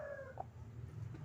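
A chicken recovering from a snoring-like breathing illness gives a couple of short soft clucks and a brief higher call, faint over a steady low background hum.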